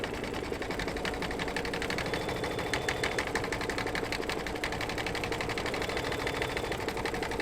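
A sewing machine runs steadily at speed, stitching the field lines of a mug rug design in white thread; its dense, even mechanical chatter is loud, close and uninterrupted, with no voices.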